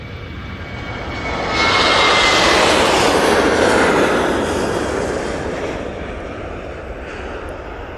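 A jet airliner departs Manchester Airport bound for Corfu, its engine roar swelling loud as it passes close, peaking near the middle with a rising whine, then easing off into a steady distant rumble, with no talking.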